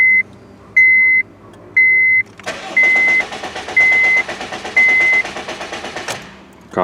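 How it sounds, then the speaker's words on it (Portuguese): A Honda Civic G8 with a shorted ignition coil cranks without firing, a steady churning starter whir lasting several seconds, while a repeating electronic beep chimes at even intervals before and during the cranking. "O carro não liga."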